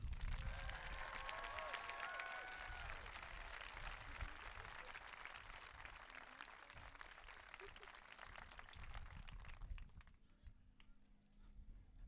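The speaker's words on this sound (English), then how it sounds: "Let's please give Katie a round of applause." Audience applause at a marching band showcase concert, a broad sustained clapping from a crowd that fills the room steadily before fading out toward the end.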